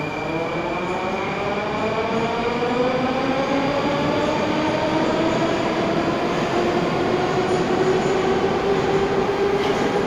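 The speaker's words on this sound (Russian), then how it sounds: "Вот сейчас как раз вот этот поезд едет в ту сторону." A Moscow metro train runs through Kiyevskaya station on the Arbatsko-Pokrovskaya line, a loud continuous rumble with rising electric motor whine and wheel noise, close by and without talk.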